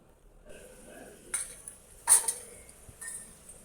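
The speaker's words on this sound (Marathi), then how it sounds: "कढईमध्ये तेल घेतलंय, त्याच्यामध्ये जिरं, कांदा आणि अद्रक लसूणचा पेस्ट घालून त्याला मिक्स करत आहोत" Stirring onion, cumin and ginger-garlic paste in an oiled kadai, with a few faint spoon clinks and scrapes against the pan, quiet and sparse.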